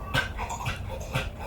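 A dog gives soft, nasal whimpers and breathy panting in a few short bursts, close and moderately quiet, with no voices over it.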